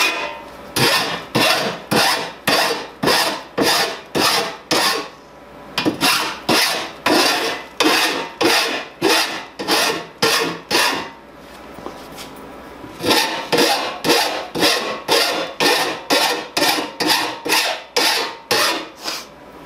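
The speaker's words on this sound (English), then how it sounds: "All I'm doing right now is going around and filing all the crap off the edges." A hand file rasps along the rough cut edges of a panel for a Cooler Master HAF932 case build, making loud, close, rhythmic strokes, about two per second, with a short pause partway through.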